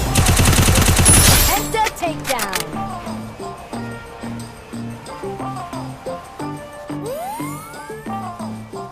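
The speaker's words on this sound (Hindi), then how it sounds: "वो जैसे ही आया मैंने उसको भी UMP से हेडशॉट मार के नॉक कर दिया।" UMP gunfire in a battle royale video game: a dense, loud burst of rapid automatic shots opens, then game sound effects and tonal chimes pulse in a regular pattern, with a rising sweep near the end.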